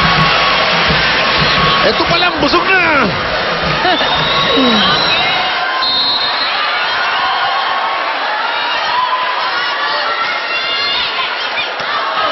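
A crowd at an Army versus Air Force volleyball match cheers and shouts loudly, the roar rising early and then settling into a sustained, dense din, with voices talking over it.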